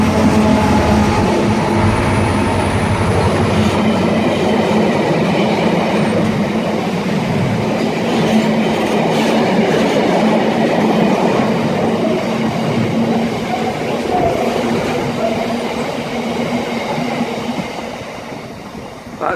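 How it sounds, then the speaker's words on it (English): A short freight train passes at Reading West, a loud continuous rumble of wagons with rhythmic wheel clatter and faint squeal, easing slightly at the end. "that was quite a short freight train"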